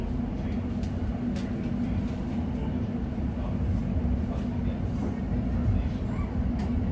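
London Overground Lioness Line train running between North Wembley and South Kenton, a steady loud low rumble and rolling drone heard from inside the carriage, continuous throughout with faint rattles.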